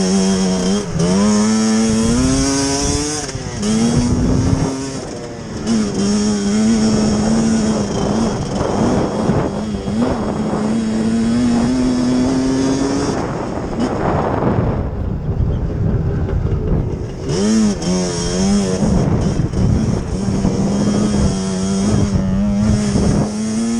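A Yamaha YFZ450 quad fitted with a Banshee two-stroke engine rides on trails, its engine droning loud and close with rising and falling revs as it shifts, plus wind buffeting the microphone throughout.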